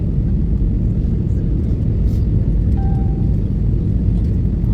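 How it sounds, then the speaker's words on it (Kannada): Steady, loud low-pitched roar and rumble inside the cabin of an IndiGo airliner descending to land at Kempegowda Airport in Bengaluru, continuous throughout with a faint brief tone partway through. "ಸೌಂಡ್ ಕೂಡ ಇರ್ತದೆ ವಿಮಾನದ್ದು,"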